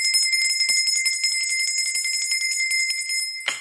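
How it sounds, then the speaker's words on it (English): A bell rings in rapid repeated strikes, bright and close, its clear tone sustaining and ringing on throughout, ending with one louder final strike. "The bell is back."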